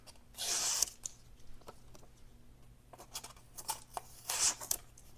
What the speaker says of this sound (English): I'm slicing 2 slices of paper at once